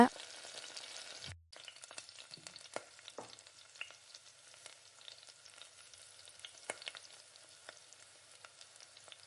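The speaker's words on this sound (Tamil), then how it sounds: "இப்போ வந்து கூட்டி குறைச்சி இந்த மாதிரி தக்காளி நல்லா வதக்கி விட்டுக்கோங்க" Tomatoes sauté in oil for a chicken pepper fry, giving a faint, steady sizzle broken by occasional light clicks of a spoon against the pan.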